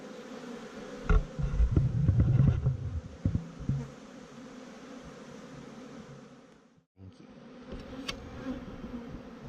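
A dense swarm of honeybees hums steadily nearby, with louder close buzzing passes and thumps early on, then a brief drop before the buzzing resumes.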